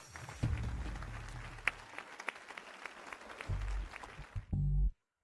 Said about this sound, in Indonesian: Mari kita berikan tepuk tangan yang paling meriah